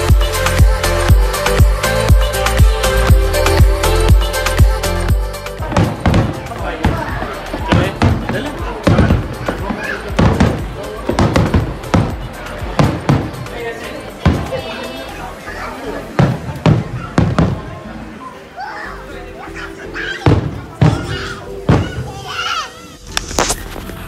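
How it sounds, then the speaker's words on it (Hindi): Fireworks at a Japanese fire festival, a rapid barrage of loud booming explosions and sharp cracks, thick at first and then in scattered heavy thumps, with crowd chatter underneath. "बहुत ज़्यादा जो ना आतिशबाजी हो रही है"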